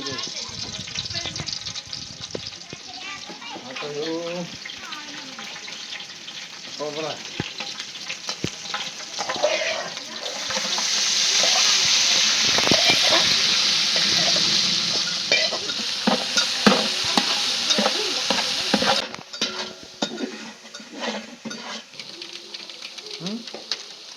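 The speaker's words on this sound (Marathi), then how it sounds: "तर मटेरियल तो तळून घ्यायचे ना हा, आता तळून आता" Mutton masala ingredients frying and stirred in a pan, steady sizzle with scraping stirs, loud and close, with someone talking over much of it and a louder hiss building midway.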